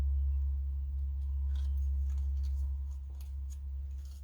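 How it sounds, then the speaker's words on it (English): Dull scissors snip paper in a short series of faint, irregular clicks over a steady low hum. No one speaks. "Oh, these scissors have lost their sharpness right at the point."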